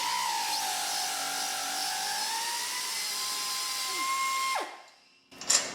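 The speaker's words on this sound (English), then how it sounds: "Now we need to remove these two 10mm bolts that hold this mounting bracket on here." A power tool whirs steadily while backing out 10mm brake bracket bolts on a Chevrolet Sonic, its pitch sagging and rising under load, then stopping abruptly, followed by a short metallic clunk.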